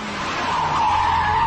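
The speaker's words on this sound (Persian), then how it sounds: "طول خط ترمز و پایداری 206 اسپی از استانداردهای اروپایی برتر است." Peugeot 206 SD sedan braking hard, its tires skidding in a sustained, loud screech that holds steady and swells slightly toward the end, heard alone.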